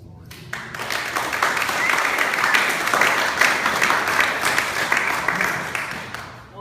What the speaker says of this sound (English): let's give a round of applause to Lori